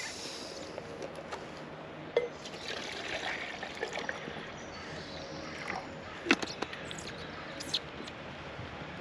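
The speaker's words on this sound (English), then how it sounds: "I've chucked in 700 mils of water" Water poured into a small camping cook set beside a survival stove, a trickling, splashing pour with a few clinks of metal, moderately close.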